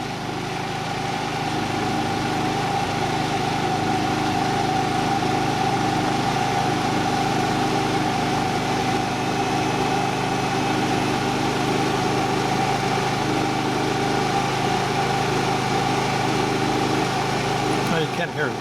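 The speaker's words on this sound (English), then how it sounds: "Now you can hear the tone of the generator change ever so little." A generator for an off-grid system runs steadily as a load is plugged in, giving a constant droning hum that shifts slightly in tone near the end, close and loud throughout.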